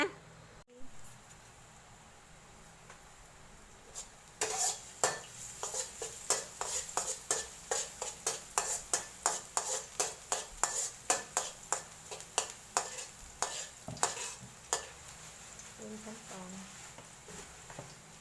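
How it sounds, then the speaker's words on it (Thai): Minced pork is stir-fried in a pan, a quick run of sharp metallic scrapes and clacks from a spatula striking the pan in a fast, even rhythm that starts after a few quiet seconds and slows near the end. "หมูลงไปคั่วจ้ะ"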